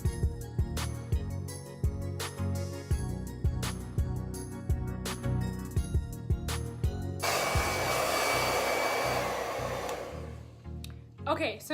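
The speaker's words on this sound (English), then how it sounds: "I'm just gonna wave the blow dryer back and forth" A blow dryer on a warm, high setting runs steadily while drying curly hair, its close roar swelling and dipping in a regular rhythm as it is waved back and forth, then settling into a fuller continuous blast.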